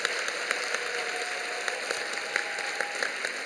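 A church congregation gives loud, sustained applause at a teacher appointment ceremony, the many hands forming a thick, continuous clatter with a few sharper claps standing out, and no talking over it.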